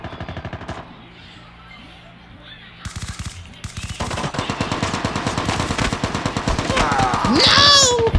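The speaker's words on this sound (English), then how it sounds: "Ooh, someone shot me." Rapid gunfire in the mobile shooter Call of Duty Mobile, loud bursts of automatic shots that intensify and grow denser toward the end, with chaotic in-game effects layered over the shooting.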